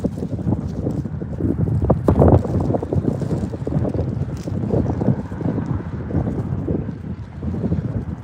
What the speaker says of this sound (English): The wind is windy, chat.